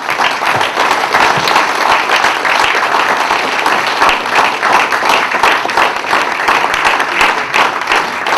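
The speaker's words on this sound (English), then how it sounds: "a big round of applause for him" An indoor audience at a corporate awards day claps continuously, a dense, loud round of applause that holds evenly throughout with no voices standing out.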